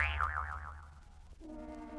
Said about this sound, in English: Well, I've taken another bounce on my arrow hop.